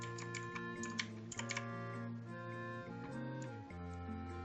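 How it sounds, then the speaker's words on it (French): A computer keyboard clicking during typing, quiet scattered taps under steady tonal game music, with a few louder clusters of clicks. "Ah, et je suis désolé pour tous ceux qui entendent le petit clic, c'est mon clavier."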